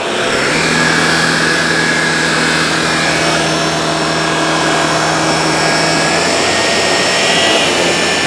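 A Shark Navigator Lift-Away vacuum cleaner runs on carpet with a loud, steady motor whine and rushing airflow, constant and close throughout.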